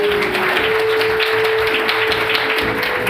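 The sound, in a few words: congregation applauding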